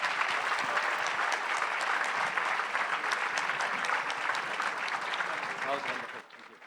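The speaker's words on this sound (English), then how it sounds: "Let's keep the applause going." An audience applauds at the close of a talk with Stephen Greenblatt and Vishal Bhardwaj on Shakespeare and politics in Jaipur. The clapping is dense and sustained, then tapers off in the final moments.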